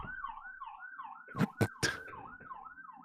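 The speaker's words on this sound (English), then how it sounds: "Sorry, more sirens." An emergency vehicle siren wails outside in a steady rising and falling cycle at moderate distance, interrupted by a few sharp nearby knocks.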